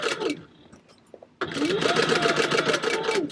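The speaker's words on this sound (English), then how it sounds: "Alright, so we're sewing the bottom on. I have a 4-stitch length, and I am sewing at 1/4 inch." A sewing machine stitches a bag bottom at a 4 stitch length and a quarter-inch seam, starting abruptly after a quiet moment and then running steadily and briskly, close by.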